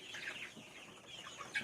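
Chickens on a farm clucking softly at a distance, with a few faint, brief calls over quiet background noise.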